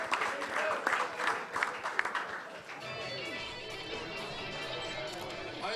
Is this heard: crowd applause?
yes